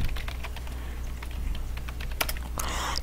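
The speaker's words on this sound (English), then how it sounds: "I have to put in password" Password typed on a computer keyboard, a quick run of close, crisp key taps in an uneven rhythm over a low steady hum, ending with a couple of sharper strokes.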